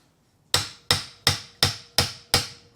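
A hammer taps a metal panel on a scratch-built 1954 Barndoor single cab, six evenly spaced, sharp ringing strikes about a third of a second apart, close and clear with nothing else heard.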